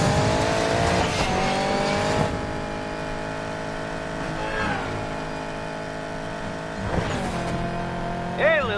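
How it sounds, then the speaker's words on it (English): Race car engines rev and roar continuously in the Need for Speed video game, with pitch sweeps as cars accelerate and pass, under a voice talking throughout. "Better hurry, engines are revving."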